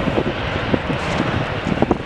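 A TUI Boeing 787-8 jet at Manchester Airport produces a steady, moderately loud engine roar with wind noise on the microphone, heard alone without talk.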